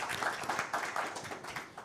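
A small audience at a county board meeting claps briefly in a faint, scattered round of applause.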